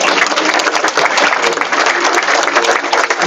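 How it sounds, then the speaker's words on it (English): A crowd at a Rotary Club of Peoria veterans meeting breaks into dense, steady applause as current Air Force members are recognized. The clapping is loud and fills the whole short stretch without letting up. "Please, one more round of applause."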